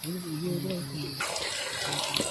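Cauliflower and mushroom pieces dropped into hot oil for a village-style crispy fry, giving a steady bubbling sizzle that swells after a moment, with a brief voice heard at the start.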